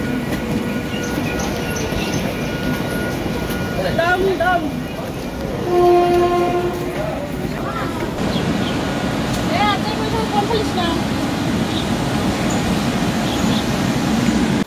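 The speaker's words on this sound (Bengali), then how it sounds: "তো ট্রেন ঢুকে গেছে প্রায়।" A train pulls into Dum Dum station, rumbling and clattering with brief wheel squeals and a horn, while people talk nearby on the platform.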